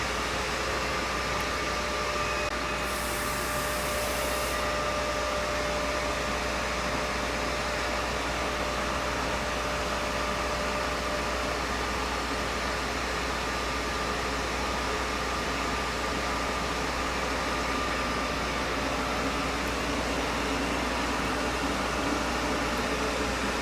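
Laser engraver working through an engraving job in a garage workshop, a steady loud hum and airy hiss from the fans and air assist that runs unbroken throughout, with a faint tone held beneath it.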